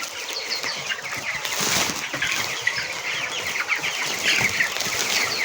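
Broiler chickens at twenty-three days old crowd around freshly topped-up feeders on a farm, clucking and chattering continuously amid bursts of wing flapping, close and busy, with no voices.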